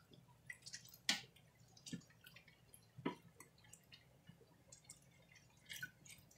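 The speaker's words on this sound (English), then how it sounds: "go ahead and stir it up" Bean soup broth being stirred in a pot, seasoned with black pepper, giving soft wet sloshes and a few sharper drips and clinks spread over several seconds, fairly quiet and with no talking.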